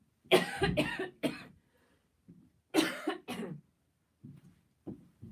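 A person coughs in several harsh bursts, first a quick cluster of three, then a pair a moment later, followed by softer throat sounds in an otherwise quiet room.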